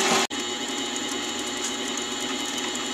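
A mini-lathe drills a 0.5 mm hole in brass, its motor holding a steady, even mechanical whir after a brief click and dropout at the start, close and moderately quiet, with no talking.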